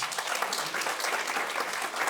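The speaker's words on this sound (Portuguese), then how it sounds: "Uma salva de palmas para todos vocês." Church congregation at a Christmas service giving a round of applause, a continuous wash of many hands clapping at moderate volume, even and unbroken from start to finish.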